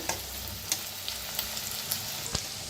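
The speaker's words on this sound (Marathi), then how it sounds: "आता छान याला भाजून घेऊया" Ingredients for a fenugreek-leaf curry dry-roasting in a pan, a steady soft sizzle with a few sharp clinks of a spatula against the pan, close and alone with no talking.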